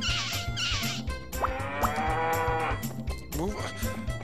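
A cartoonish farm-animal call from the Nintendo 64 game Harvest Moon 64, repeated a few times amid chiptune background music, with a voice speaking over parts of it.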